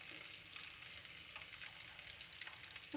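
Hot oil heating in a pan for frying mutton nargisi koftas gives a faint, steady sizzle with soft crackles, quiet and alone.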